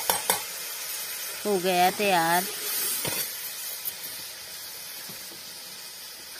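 Spices sizzle steadily in hot oil with a constant hiss as a tadka with turmeric and tomato is tempered, while a voice speaks briefly over the frying.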